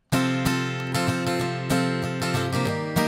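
Strummed guitar chords with a steady rhythmic attack, playing the bridge progression of a song, loud and close with no talking.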